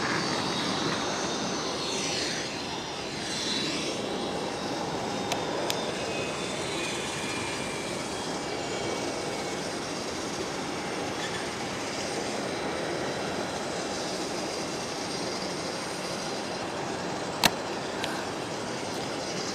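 Embraer Phenom 100 business jet taking off at Geneva Airport, a sustained engine roar with a whining tone that sweeps and fades into the distance, plus one sharp click near the end.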